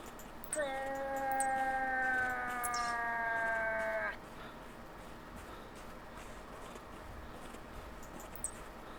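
A single drawn-out bull call, whistling with rich harmonics, lasts about three seconds at moderate distance, then quiet outdoor ambience follows.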